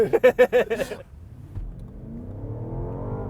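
BMW Alpina XB7 SUV's V8 engine accelerating at full throttle from inside the cabin, a steady rising engine drone that follows a brief burst of music, with no talking.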